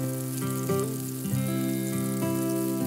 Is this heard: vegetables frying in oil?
yes